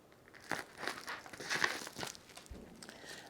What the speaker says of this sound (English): I have some washi tape and I'll tape this to the back.